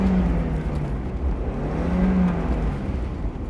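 A small Mazda Miata roadster engine drones and revs steadily for several seconds, loud and close, with a rising and falling engine tone and no voices.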